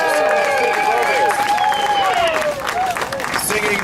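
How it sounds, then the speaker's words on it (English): Crowd at an outdoor school-funding protest rally applauds and cheers steadily, a dense wash of clapping with a sung or shouted voice line running over it throughout. "One more round of applause for David, everybody."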